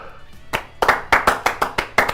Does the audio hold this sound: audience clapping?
yes